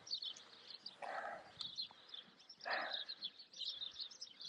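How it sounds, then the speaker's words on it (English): Small birds chirp and tweet faintly in repeated bursts beside a field on a nature walk near a canal in Stoke-on-Trent, with soft outdoor background noise. "a nice sound of birds tweeting"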